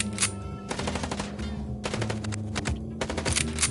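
Rapid automatic gunfire in a video game aimed at a vehicle's wheels, several loud bursts of rattling shots separated by short pauses, near and alone with no talking.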